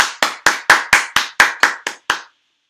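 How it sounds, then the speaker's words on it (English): A church congregation claps in praise, ten sharp, evenly spaced claps in a steady rhythm that stop abruptly, with no talk over them. "Let's give a clap of praise for the Lord, for His goodness, for His grace."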